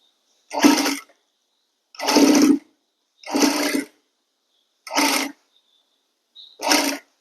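A sewing machine stitches a kurti in five short, separate runs, each about half a second long with quiet gaps between them. No one speaks.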